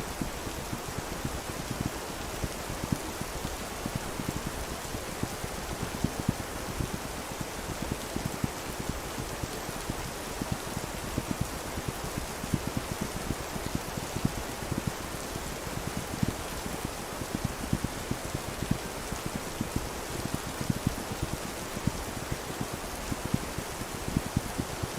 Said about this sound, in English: Enjoy the rain